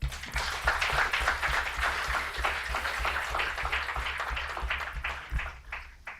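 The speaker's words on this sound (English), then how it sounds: "I would like to start by requesting that we give both teams a round of applause" A modest room of listeners at a youth debate claps for both teams, the scattered hand claps fairly faint and uneven, continuing steadily before tapering off at the end.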